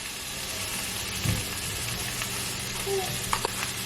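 A peanut sauce with pepper and garlic powder being mixed, heard as a soft continuous sizzle-like hiss with a few muffled clinks and scrapes, close by and fairly quiet.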